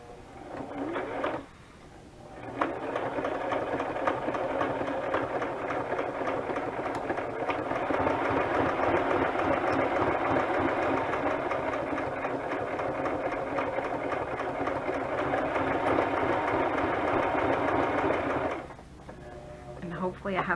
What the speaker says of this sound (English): I'm just using my zigzag for going around the edges.